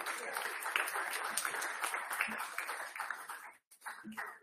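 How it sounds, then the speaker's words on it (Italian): Applause at an Olympic delegation send-off press conference, a steady spread of clapping from the room with voices mixed in, briefly dropping out near the end before resuming. "Applauso."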